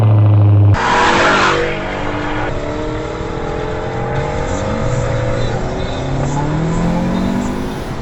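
Mercedes SL55 AMG with a muffler delete, its exhaust revving loud and close with rising and falling engine tones across several throttle blips, a brief sharp burst at the start.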